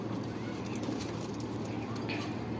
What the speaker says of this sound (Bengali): সব কবুতর একসাথে আসবে পানি খাওয়ার জন্য।